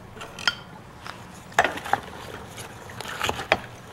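Vegetables and steaks tossed together in a crock pot give off a series of sharp clinks and clatters of a utensil against the pot, with soft shuffling between the knocks. Close by, irregular, with no talking.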